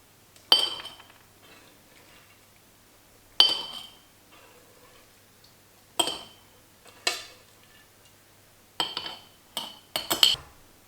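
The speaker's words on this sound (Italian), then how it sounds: "E ora vado a mettere le lenticchie nei barattoli." Glass jars for lentils clink and knock against each other in several separate bursts, close up, with quiet pauses between the handling sounds.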